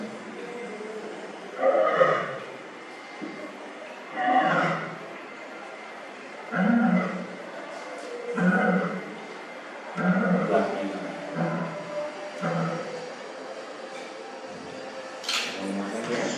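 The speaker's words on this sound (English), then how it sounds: "It's a beautiful, beautiful lioness there. This was outside my tent." An Ethiopian lioness roars at night just outside a tent, a series of deep, evenly spaced grunting roars that grow shorter and fainter toward the end.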